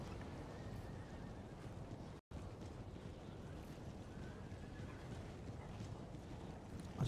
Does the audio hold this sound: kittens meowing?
no